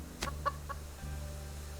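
A few short, clipped chicken clucks in the survival game Subsistence arrive in quick succession near the start, then give way to a steady low ambient hum with no voices.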